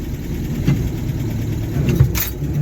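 A 1968 Land Rover Series IIa 88 driving in low range, with a steady mid-pitched engine drone and gear whine and a slight swell in revs.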